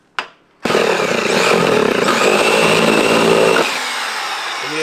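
A power drill bores through unpainted 1960s aluminum siding into a house wall for dense-pack insulation, a loud, close, sustained grinding whine after a brief click, easing down near the end.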